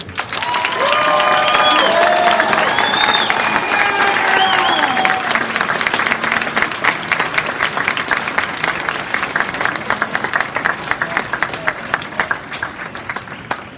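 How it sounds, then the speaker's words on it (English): Sustained applause from a large crowd at a graduation ceremony, dense clapping with some cheering and whistles, loud at first and gradually thinning over about fourteen seconds. "Please join me in giving them another round of applause."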